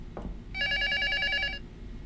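In the Prophecy Demo game, a telephone gives a single trilling electronic ring of about a second, loud and clear over a quiet ambient background, preceded by a brief thud.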